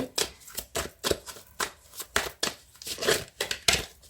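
Oracle cards being shuffled and drawn, a close, crisp run of rapid riffling bursts and papery flicks in an uneven rhythm, with no talking.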